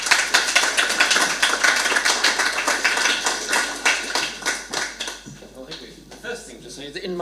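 An audience at a literary festival reading gives a big clap, a loud, dense burst of close handclaps that thins out and fades after about five seconds, with voices heard as the clapping dies down.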